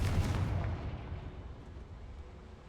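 A Confringo blasting spell in Hogwarts Legacy goes off as a loud booming explosion that hits at once and then rumbles and fades away over a couple of seconds.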